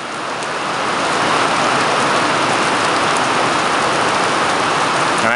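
Heavy rain pouring down outdoors during a thunderstorm, a loud, dense, continuous hiss that builds slightly and stays steady throughout, with no voices.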